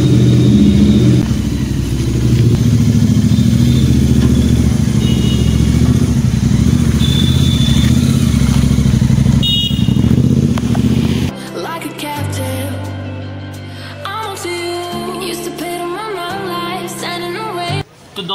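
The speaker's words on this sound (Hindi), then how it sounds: "बाइक का थोड़ा साउंड सुनो दोस्तों।" A GT 650 motorcycle engine revs loudly up close for about eleven seconds, rising and falling, then cuts off abruptly and other sounds take over.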